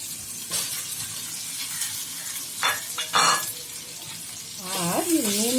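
Potatoes drop into hot oil and are stirred, producing a continuous sizzle broken by a few louder scraping bursts and a rising, wavering tone near the end.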